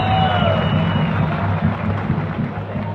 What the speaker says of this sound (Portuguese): Uma salva de palmas para Rafinha.